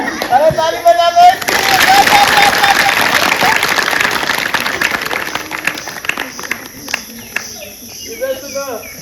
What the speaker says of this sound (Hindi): अरे ताली बजा लो।